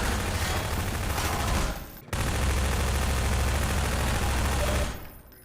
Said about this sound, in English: On this day one build, the SMG and pistols sometimes sounded way beefier to my ears.